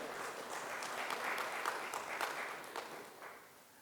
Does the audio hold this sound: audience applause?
yes